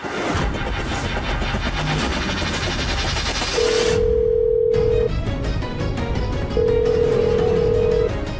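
After a stretch of noisy background, a phone's ringback tone sounds twice, two long steady tones with a gap, the call going unanswered.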